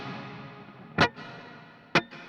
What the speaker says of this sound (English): You can hear me hit it, and then there's a second of it, almost like a splash of reverb